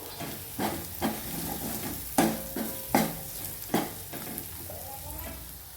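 Spices being stirred into a hot frying pan: turmeric, kitchen king masala and coriander powder, with a spoon scraping in several distinct strokes over a steady sizzle, close and moderately loud, no talking.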